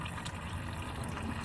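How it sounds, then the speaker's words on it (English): Coolant draining from a VW Tiguan engine during water pump and thermostat work, a steady rushing liquid flow heard up close and fairly loud for the whole brief moment, with no voices. "just drain the coolant"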